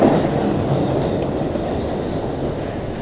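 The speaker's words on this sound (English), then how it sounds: "here comes the train" An old train, around fifty years in service, rolls into a station with a steady, loud rumble of wheels and carriages, with brief high squeals above the continuous low roar.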